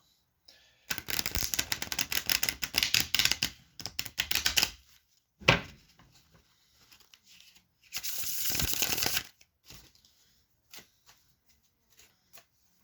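Playing cards being riffled and shuffled in two long crisp bursts, close by, with scattered taps and card handling in between.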